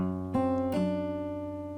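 Acoustic guitar phrase from a song: a sustained bass note with two quick plucked notes on top, the second a hammer-on, ringing close and clear with no voice.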